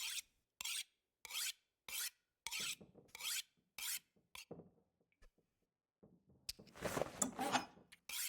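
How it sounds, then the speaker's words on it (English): In the game The Long Dark, a tool is sharpened on a whetstone with a series of crisp, rhythmic rasping strokes, about eight in a row, followed by a longer, denser scraping passage, all heard alone at close range. "We'll finish sharpening our tools."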